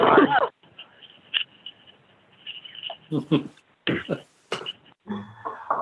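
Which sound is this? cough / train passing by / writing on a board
cough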